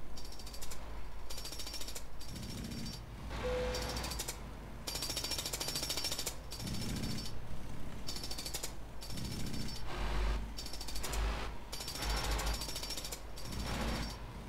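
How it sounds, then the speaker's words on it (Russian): A jackhammer pounds at a house construction site in Euro Truck Simulator 2, bursts of rapid hammering that start and stop in a repeating rhythm, moderately distant and alone over a low background hum. "Отбойный молоток так бабахает."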